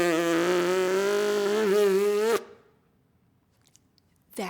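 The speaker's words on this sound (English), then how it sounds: "like on a modern trumpet, you have to buzz your lips in order to get a sound" Lips buzzed into a trumpet produce a single sustained, slightly wavering reedy tone lasting about two seconds before cutting off into near silence, with a faint start of another sound at the end.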